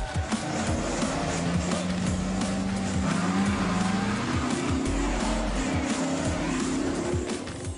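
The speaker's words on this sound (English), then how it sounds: "these cars spin out of control" Engines roar continuously as cars spin out of control, tires squealing in long drawn-out screeches, loud and close, with a crowd of onlookers faintly underneath.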